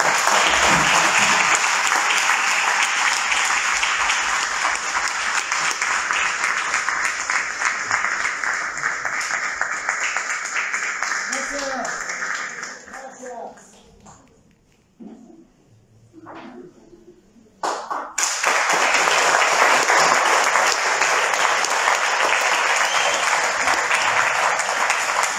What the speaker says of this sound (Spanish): vamos a darles un aplauso.